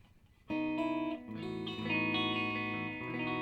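Distorted electric guitar chords ring out through a Carr Rambler amplifier, sustained and heavy with effects, played alone without any talking.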